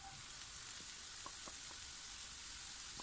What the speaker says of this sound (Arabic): هنايا بعد ما تشحرت داك البصله ديالنا غنزيدو عليها الشامبينيون